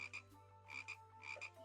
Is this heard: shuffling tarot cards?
no